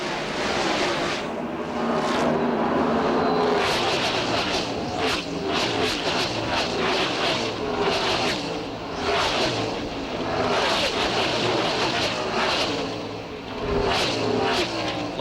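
Stock cars roaring around Atlanta Motor Speedway during the 1996 NASCAR Winston Cup NAPA 500, a loud, continuous engine drone with repeated swells as cars sweep past, no voices.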